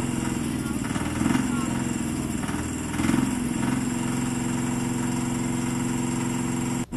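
The auxiliary power unit engine on an M1070 heavy equipment transporter truck runs steadily at close range, a loud, even idle with two brief swells in revs early on before settling into a constant drone.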